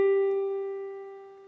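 A single pure G tone, the reference pitch for tuning a ukulele's first string, sounding steady and clean before slowly fading, alone and close.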